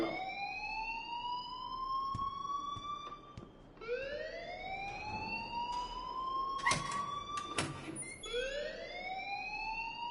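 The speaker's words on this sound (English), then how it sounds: "please turn off that alarm since that's your job" A rising-and-falling electronic alarm siren in the video game Life is Strange, wailing in repeated sweeping cycles of about four seconds, loud and continuous with no talk over it.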